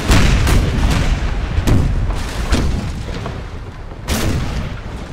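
Cannon broadside from a warship in the Napoleon Total War naval battle, a rapid string of loud deep booms about every half second to second, with two heavier blasts near the start and the end, and no voices.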